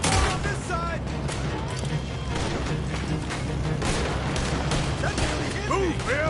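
Gunfire in a Red Dead Redemption 2 shootout during a robbery, a dense, continuous barrage of shots and booms mixed with shouting voices and constant rumble.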